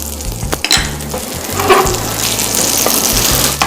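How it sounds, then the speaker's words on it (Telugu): Soya chunk kababs, coated in bread crumbs, sizzle steadily in hot oil, a close continuous frying hiss with occasional clinks of a utensil against the pan. "లేదంటే బ్రెడ్ క్రమ్స్తో కోట్ చేసి అప్పుడు మీరు ఇలా వేసి ఫ్రై చేసేసుకోండి"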